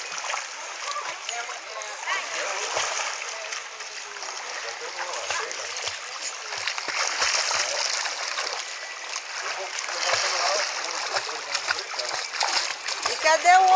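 A child swims and splashes in water during a bath or pool session, with continuous close splashing and sloshing throughout; voices talk over the water.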